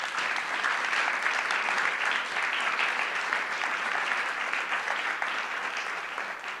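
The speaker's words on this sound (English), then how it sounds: "So a round of applause." Sustained, enthusiastic applause from a large crowd at a school board meeting, clapping steadily for several seconds.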